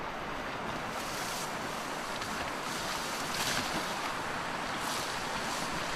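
River water flows in a steady, close broadband rush that does not let up, with slight swells in the noise and no voices.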